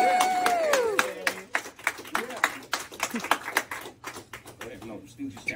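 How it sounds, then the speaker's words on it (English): A burst of applause at a political rally follows an announcer's voice, with scattered claps and cheers that thin out into individual claps. "let's give a loud big warm applause."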